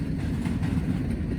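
A freight locomotive passing during railfanning in Muncie, a steady, close, loud low rumble of rolling rail traffic with faint clattering throughout.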